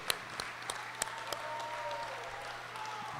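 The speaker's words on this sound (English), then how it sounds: "Let's give a round of applause and recognize the journeyman class of 2025" Applause for the graduating journeyman class of 2025 at a union local graduation ceremony, a few scattered claps and faint clapping under steady room noise, fairly quiet and distant.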